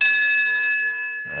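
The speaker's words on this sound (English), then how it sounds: "Each bell is a different size." A small bell from Captain Cook's private chapel is struck once and rings with a clear, sustained metallic tone that slowly fades, heard close and alone.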